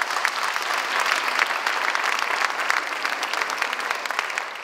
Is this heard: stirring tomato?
no